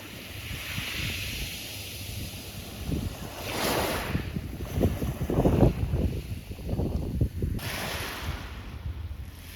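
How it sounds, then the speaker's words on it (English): Waves ebbing over rocks on a pebbled beach on the Greek island of Rhodes, a soft continuous wash with gentle surges building and receding, heard with some wind noise across the microphone. "my favorite sound of all is when the waves are ebbing over the rocks on a pebbled beach"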